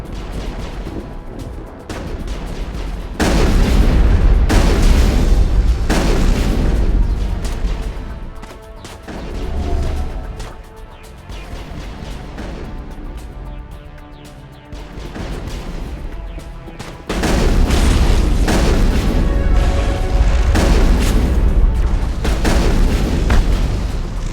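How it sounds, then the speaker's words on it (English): A big gun fires repeatedly in Mass Effect 1, delivering loud, heavy booms and rumbling blasts in several sustained bursts amid battle noise, with quieter gaps between volleys. "There must be a way to shut that gun down."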